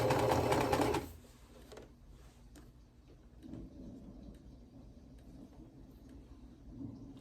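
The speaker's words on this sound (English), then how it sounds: "We're just sewing it corner to corner of the white square." A sewing machine stitches a white fabric square corner to corner for a quilt block. A loud burst of stitching lasts about a second, then gives way to quiet handling noise and faint low rumbles.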